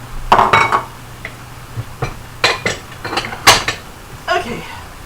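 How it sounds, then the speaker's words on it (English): Ceramic bowls clink and knock together as one is lifted out of a crowded kitchen cupboard, a handful of close, sharp chinks and clatters spaced unevenly over a few seconds. "Let's get one of my pretty bowls."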